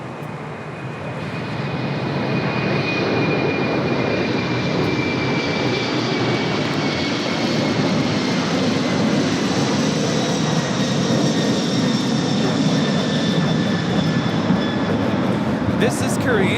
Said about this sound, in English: This is Korean Air Cargo 214 taking off to San Francisco on the 747-400 freighter.